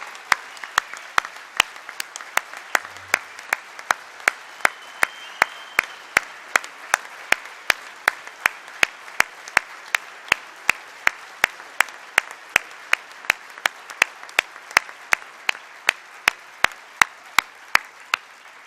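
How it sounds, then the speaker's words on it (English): Audience at the 2019 Greater Syracuse Sports Hall of Fame induction ceremony claps for the inductees in a steady, evenly spaced beat of sharp claps that carries on for the whole stretch. "how about one more gigantic round of applause for all of these legends up here?"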